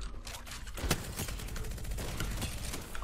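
Rapid bursts of gunfire from a weapon in the video game Apex Legends, steady and loud throughout with one sharper crack near the one-second mark, no talk over it.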